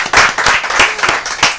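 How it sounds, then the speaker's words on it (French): Brief clapping from an audience at a word championship match, a few seconds of close, uneven hand claps with distinct individual strikes rather than a dense wash. "Sous vos applaudissements, s'il vous plaît."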